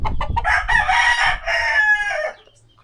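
A fighting rooster crows once, loud and close, a full drawn-out call that rises, holds and trails off, with a few short clucking notes at the start.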